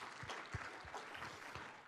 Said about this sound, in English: So let's give a round of applause to them for making it a good day.